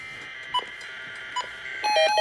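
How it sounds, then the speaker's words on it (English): Emergency Alert System weekly test tones: two short, clear electronic beeps spaced about a second apart, then a denser burst of overlapping high tones near the end. All are loud against a quiet background, with no talking. "Beep tone."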